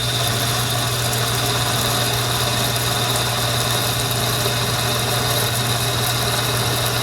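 A metal lathe runs at a steady slowed speed while turning the shank of a carriage stop clamp bolt, giving a continuous even hum and motor whine with no breaks.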